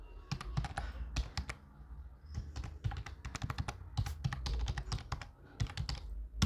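Rapid typing of code on a computer keyboard, close and steady, with dense clusters of key clicks and brief pauses between words.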